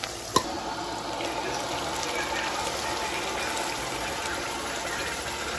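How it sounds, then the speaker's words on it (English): Water pours steadily into a pot of lentils in a home kitchen, a continuous soft splashing stream after a brief sharp knock at the start, with faint voices in the background. "So my mom now just pour over 3 cups of water, like 8 ounces"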